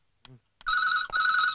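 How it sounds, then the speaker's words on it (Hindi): A telephone rings at night in a Hindi film scene, a steady electronic trill in two bursts, loud and close, after a brief voice and a short gap. "अरे इतनी रात को किसका फोन आ गया?"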